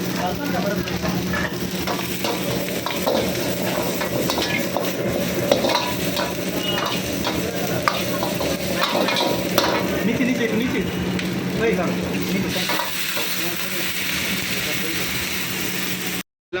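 Onions and capsicum being stirred in a sizzling pan, a steady fry hiss with scraping strokes of a spatula throughout, close and even, with a brief voice faintly underneath.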